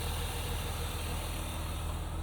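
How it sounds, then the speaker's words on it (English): Inline six S52 engine of a 1999 BMW Z3 M Roadster idling smoothly at close range, a steady low rumble held throughout with no voices. "You can hear it idling quite smoothly there."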